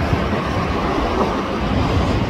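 Jet airliner from Spirit Airlines departing LAX, heard as a steady, loud broadband engine roar that holds evenly throughout, with no talk over it.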